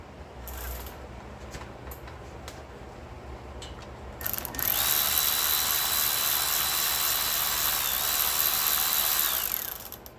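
A power tool whirs continuously for about five seconds while the oil pan is removed from a boosted engine, loud and close, after a quieter stretch of shop noise with light clicks.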